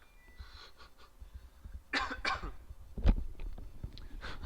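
A person coughs during an online Go game, with a couple of sharp bursts near the middle followed by breathy throat sounds, fairly close and moderately loud with no talking.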